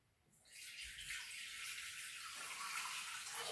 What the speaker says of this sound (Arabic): غادي نديرو 300 غرام ديال الماء